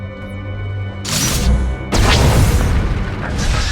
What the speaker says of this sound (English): That's the sound of my flux cannons incinerating one of your capital ships.